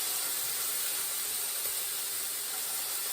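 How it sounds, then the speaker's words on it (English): Garlic sizzles gently in a pan over a low flame, making a soft, steady, continuous hiss with no other sounds. "We'll keep it pretty low, just so that we let that garlic sizzle."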